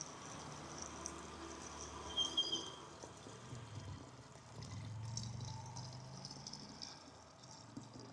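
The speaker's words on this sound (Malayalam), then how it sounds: "നനയ്ക്കുമ്പോൾ ആദ്യം തന്നെ കുപ്പിയിൽ വെള്ളം അങ്ങ് നിറക്കട്ടെ" Water pours and trickles into a plastic bottle at a home vegetable garden, a soft steady gurgle of liquid filling with a brief brighter splash near the middle, fairly quiet and close with no talking.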